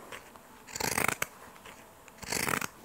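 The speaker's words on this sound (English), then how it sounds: "Again with the pinking shears" Pinking shears cutting through fabric for a bucket hat, two separate bursts of crisp snipping close up, each a short run of rapid crunchy cuts, with no talk.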